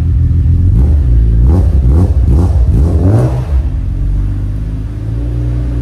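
A BMW M3 police car engine revs hard several times in quick succession, each loud, close blip rising and falling before dropping back to a deep rumbling idle.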